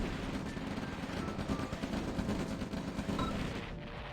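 Video game battle gunfire from a mobile flak unit and rocket launcher in a tournament match, a dense, continuous rumble of rapid shots and booming bursts that runs throughout without pause or voices.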